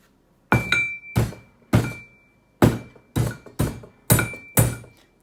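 A hammer strikes a chunk of gold-bearing conglomerate rock, giving eight loud, close, separate thunks with a glassy clink, spaced unevenly over a few seconds.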